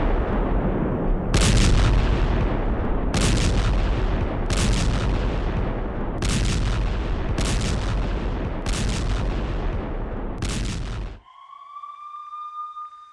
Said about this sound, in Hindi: देखिए टैंकों के जरिए कैसे IDF यानी इजरायली डिफेंस फोर्सेस हमला कर रही हैं